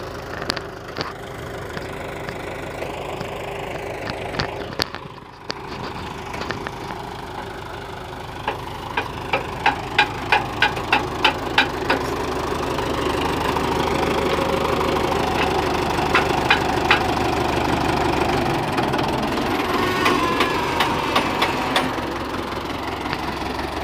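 A Belarus 510 tractor engine runs steadily throughout during a performance test, with a low rumble and a faint rhythmic knocking, moderately close, no talking.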